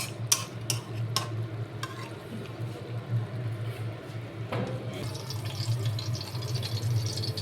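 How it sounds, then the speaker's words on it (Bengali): Chicken for biryani cooking on low heat in a pan: a soft, steady sizzle under intermittent scraping and clicking stirs, fairly close and without speech. "এভাবেই আমি লো হিটে পুরো মাংসটা ভুনা করবো"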